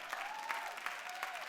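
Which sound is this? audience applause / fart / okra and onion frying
audience applause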